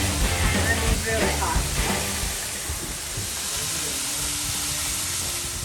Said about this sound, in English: You will just flour the calamari and then you will fry them.